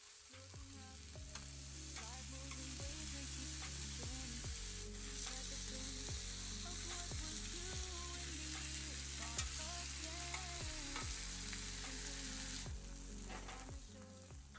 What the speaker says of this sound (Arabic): كل جانب بياخذوا معي من 5 دقائق ل7 دقائق لحد ما ياخذوا وش التحمير